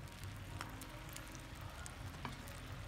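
Saltfish and cactus sizzle and crackle as they fry in a pot outdoors, a steady, moderately quiet hiss with scattered sharp pops and no voices.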